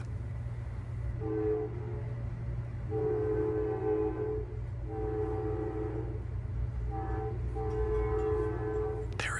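An Amtrak train pulling into Wallingford station sounds its horn in several long, loud, chord-like blasts with short gaps between them, over a constant low rumble of the moving train.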